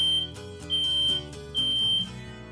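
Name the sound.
smoke alarm sounding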